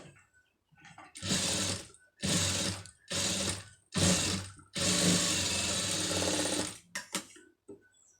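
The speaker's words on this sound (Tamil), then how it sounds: "இப்போ இதை வந்து திருப்பி இதுக்குள்ளார வந்து ஒரு தையல் போட்டுருங்க" A sewing machine stitches fabric for a pom pom design in four short whirring bursts and one longer run, close and clear, separated by brief quiet pauses with faint handling clicks.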